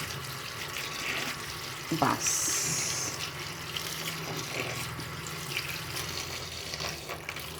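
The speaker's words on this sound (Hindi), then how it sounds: "ठंडा पानी हमने डाला है" Cold tap water running and splashing over cooked macaroni in a kitchen sink or strainer, a steady gushing stream with a brief clatter near the start, a word spoken briefly.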